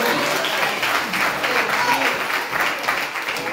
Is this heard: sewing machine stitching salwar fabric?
no